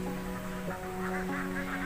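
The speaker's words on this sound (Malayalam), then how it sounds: "ഒരുപാട് താറാവുകളും ഉണ്ട്." Ducks on a flowing backwater beside paddy fields quack and honk continuously, a faint, steady chorus with no talking.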